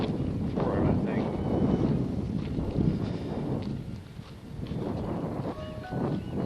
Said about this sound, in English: 10-mile-an-hour wind.